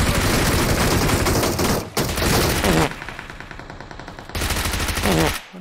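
Rapid automatic gunfire in the PUBG video game, loud and close, fires in several sustained bursts separated by brief pauses.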